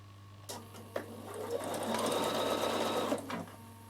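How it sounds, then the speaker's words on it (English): A Bernina sewing machine stitches binding onto a small quilt, running steadily for about three seconds after a few short starts, with a constant low hum underneath. "And now you sew from here down to the next corner."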